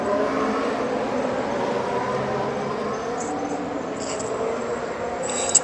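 Race car in a Brazilian Grand Prix video game, a continuous engine whine held at speed, steady and moderately loud with no voices over it.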